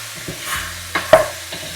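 Chicken for a curry stirred in a hot pan, a soft sizzle under a few scraping spoon strokes and two sharper clatters near the middle, with no talk.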